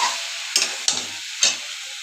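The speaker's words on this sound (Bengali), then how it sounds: "এবার আলুগুলো দিয়ে দেবো, আর একটু নাড়াচাড়া করে কষিয়ে নেব।" Potatoes tossed into a pan with soybean chunks being stirred and fried, a steady bright sizzle broken by three sharp scraping strokes of the spatula, close and alone with no voices.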